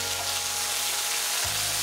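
Fried onion paste sizzles in a hot pan for a chana masala, giving a steady, fairly soft frying hiss with no voices.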